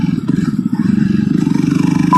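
Jawa Perak motorcycle exhaust, a loud, close, steady low thumping pulse from the engine at a fast even rhythm, with no talking.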